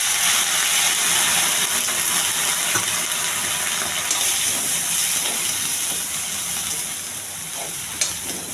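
Soya chunks (meal maker) frying in a pan with curry leaves, salt, chilli powder and turmeric as a little water is added, giving a loud, steady steamy hiss with faint stirring clicks, no voices.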